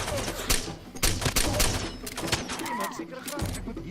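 Rapid sharp gunshots from the video game Far Cry 2 snap out in quick irregular bursts, close and punchy, clustered tightly together over a few seconds with faint voice-like sounds underneath.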